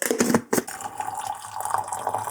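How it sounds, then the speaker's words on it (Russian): Hot water is poured for coffee outdoors in a forest, giving a soft, close trickling splash that runs steadily for a couple of seconds with no talk. "Я наливаю сразу горячую воду, чтобы он слишком долго там не грелся на плите и не жарился"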